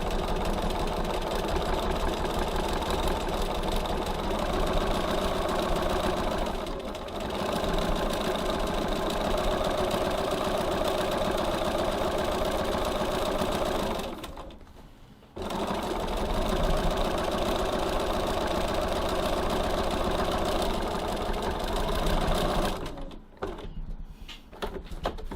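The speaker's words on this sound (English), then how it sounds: "Now I'm stitching this second row of stitching pretty close to the first row." A sewing machine runs a second row of stitching along a tote bag seam through soft and stable foam, a loud, close, steady rapid mechanical hum broken by two brief pauses.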